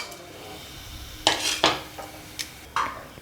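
Whole spices (a bay leaf, a little cinnamon, one star anise, two cloves and one cardamom) dropped into hot oil for egg biryani, giving a few separate clinks and brief sizzling bursts over a quiet kitchen background.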